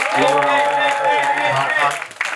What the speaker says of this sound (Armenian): Ուզում եմ մենք բարձր ծափահարենք հանրային հեռուստաընկերության ամբողջ հանրաքանքին։